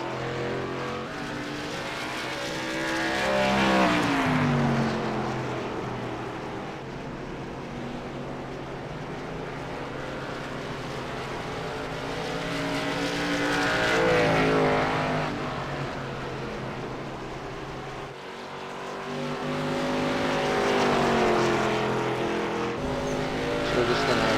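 Race cars at practice on the Lucas Oil Raceway track pass by in long, rising-then-fading engine sweeps every ten seconds or so, loud and distant by turns over a steady trackside hum.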